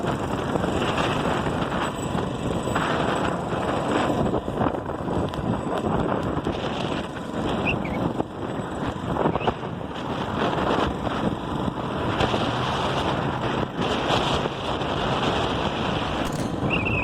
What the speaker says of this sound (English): here we are in 30-mile-an-hour fucking winds at the Dollar General store